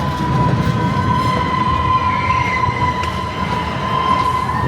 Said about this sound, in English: it's a massive squeak on this train